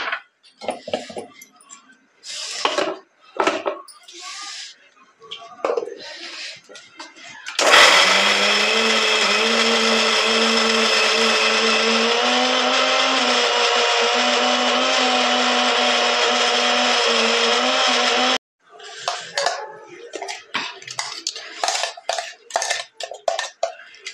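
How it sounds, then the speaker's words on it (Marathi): A mixer grinder whirs loudly for about ten seconds, crushing wet red chillies and garlic with rock salt, a steady motor drone that starts and stops abruptly, framed by clinks and handling of the jar before and after. "आता आपण मिरची बारीक करून घेऊया"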